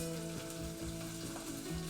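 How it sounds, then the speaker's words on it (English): Steady crackling sizzle of torn spinach frying in a hot pan, continuous and close, with a low hum running underneath and no voices. "now we're sizzling"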